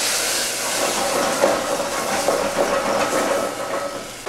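Brandy flambéing in a pan with caramelized tomato paste, a loud continuous roaring hiss of flame that swells and wavers for several seconds, heard up close with no talking.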